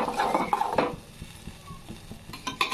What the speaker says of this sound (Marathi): चांगलं परतून घ्यायचंय तेल सुटेपर्यंत, 2-3 मिनिटं असं चांगलं परतून घ्यायचंय।